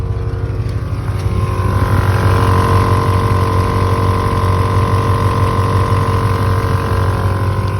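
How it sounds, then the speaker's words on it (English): An EAS air suspension compressor runs steadily up close, a loud continuous motor drone with a constant hum and no breaks, no talking. "I'm going to run my compressor, and you can hear that it is working"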